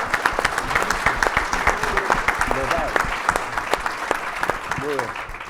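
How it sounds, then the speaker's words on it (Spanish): Audience applause for a panelist at a forum on economic and labor crimes law, brisk overlapping claps at moderate volume with a few voices briefly heard over them. "Un aplauso para ella también."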